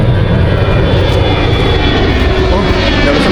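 A loud, steady roar of a jet airplane engine dominates throughout, a dense unbroken rush of noise close overhead.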